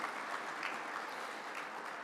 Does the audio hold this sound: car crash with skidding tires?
no